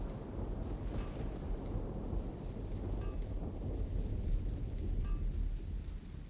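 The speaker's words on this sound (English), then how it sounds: "constant rain." Constant rain falls in the Amazing Cultivation Simulator video game, a steady low hiss with a deep rumbling undertone of thunder, fairly quiet and unbroken, with no voices.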